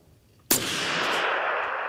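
A single sharp rifle shot from a .338 Lapua Magnum at a long-range shooting session, with a sudden loud crack followed by a sustained rushing roll of echo.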